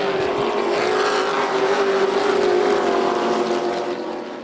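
Pro trucks in the Florida Pro Truck Challenge Series race on the Volusia Speedway Park dirt track, a loud, continuous engine drone with a steady pitch holding for several seconds before easing slightly at the end.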